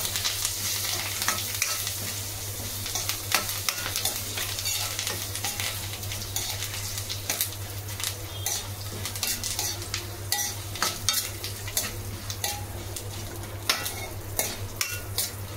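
Curry leaves hit hot oil in a pan along with asafoetida, giving a steady close sizzle and frying crackle throughout, with occasional clinks of a utensil stirring in the pan.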